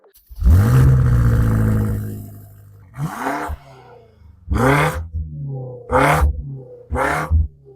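A BMW M8 with over 600 horsepower revs loudly close to the exhaust, one long roaring rev that fades, then four shorter sharp blips in quick succession, with no talking.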